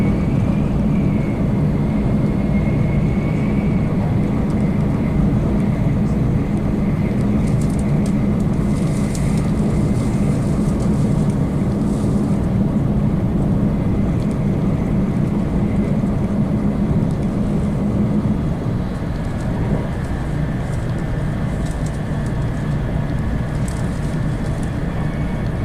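Inside a bullet train heading to Tokyo, a constant deep rumble and roar continues throughout, with faint high whistles and rattles drifting over it.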